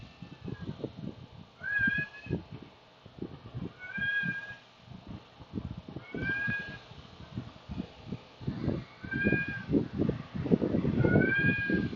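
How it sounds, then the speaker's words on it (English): A cat meows repeatedly for attention, about six clear rising meows spaced every couple of seconds, close by and fairly loud, over a steady background of clattering and muffled activity. "somebody's meowing for attention"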